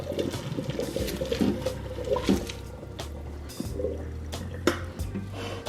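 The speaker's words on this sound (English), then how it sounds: "we're just going to drain our pasta in our colander" Water and cooked pasta splash and gush into a colander in a kitchen sink, with uneven pouring surges and drips, loud and close throughout.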